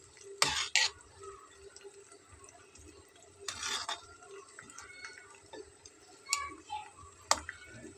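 A spoon stirs pumpkin and pointed gourd curry in a pot, giving a few clattering scrapes and taps against the metal with quiet gaps between them, close and fairly soft.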